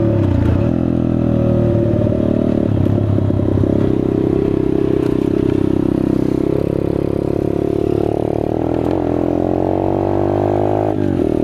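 A Chinese dirt bike engine runs close up while riding, a loud continuous buzzing drone that shifts pitch as the throttle rises and falls, with some rattling clatter and no talking.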